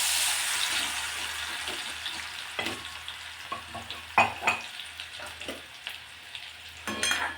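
Cumin seeds and crushed garlic hit hot oil in a kadhai for a tempering, opening with a loud hissing sizzle that settles into a steady fry broken by the clinks and scrapes of stirring.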